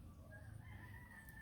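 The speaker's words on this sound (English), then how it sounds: "You will hear the roosters. They're awake and they're doing their job." Roosters crowing at early morning in Jamaica after Hurricane Melissa: drawn-out crow calls ring clearly over a steady background din, with no talking.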